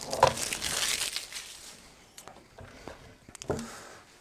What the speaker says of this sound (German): Hier ist noch Folie drum, die werde ich jetzt mal abmachen.